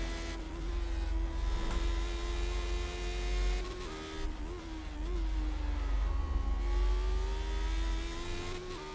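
Lotus 79 ground-effect race car in the iRacing simulator, its engine note rising and falling through the gears, a continuous mid-pitched drone with brief dips as it shifts and lifts, heard alone and up close.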